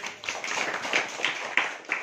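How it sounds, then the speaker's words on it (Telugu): Hands clapping among a church congregation at a gospel ministry service, a scattered, uneven patter of claps of moderate loudness with a few sharper individual claps standing out. "చప్పట్లు కొట్టండి"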